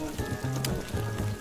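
Fajitas of oil, onions, green, red and yellow peppers and meat sizzle in the Cook Serve Delicious 2 cooking game, a steady hissing fry with a low electronic hum and a few brief tones.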